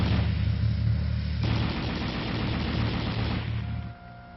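A 7.62 mm M73 machine gun fires from an M60 tank in a loud, dense stream of rapid shots that runs almost without a break and then tails off near the end.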